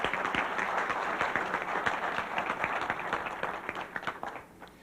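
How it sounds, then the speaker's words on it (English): Audience applause for a seminar guest named Harold, dense and steady clapping from a crowd that holds for several seconds, then thins and fades out near the end. "Give Harold a round of applause,"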